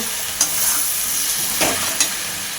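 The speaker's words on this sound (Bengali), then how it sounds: "দিয়ে দেব সম পরিমাণ সাদা সর্ষে ও পোস্ত বাটা আর দেব ভেজে রাখা চিংড়ি মাছ দিয়ে আবারও খানিকক্ষণ এদিকে নাড়াচাড়া করে নেব" Fried shrimp stirred in a pan with white mustard and poppy seed paste, a steady sizzle and hiss throughout, broken by a few brief scraping stirs of the spoon.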